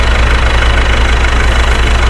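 A Mahindra 9500 tractor engine idles up close, a loud, steady low rumble with an even chugging pulse and no talking.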